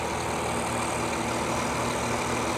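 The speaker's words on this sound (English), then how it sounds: "Everything's been running good on the tractor so far." An IH 966 tractor engine running steadily, a loud, continuous broadband diesel rumble with a low throbbing idle, close to the machine and without talk.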